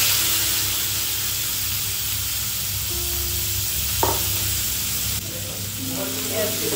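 Hot oil sizzling in a pan before boal fish is fried, a continuous hiss with faint crackles, a brief clatter near the middle and a low background hum.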